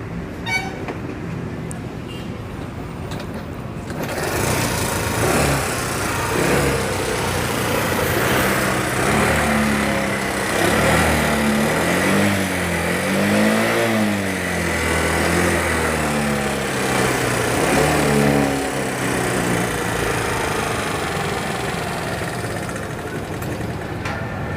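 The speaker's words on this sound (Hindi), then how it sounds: "इंजन का साउंड ख़राब है। तो चलो मैं स्टार्ट मारता हूँ।" A Yamaha Ray scooter with a faulty engine starts up after a brief idle-like hum, then runs steadily at close range with a rough, uneven tone throughout.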